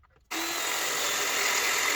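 A power drill starts abruptly after a brief quiet moment and then runs steadily at high speed, a loud, close, continuous whine.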